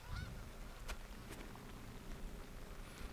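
Geese honking in the distance at a disc golf tournament, repeated nasal calls over a noisy outdoor background with low rumble.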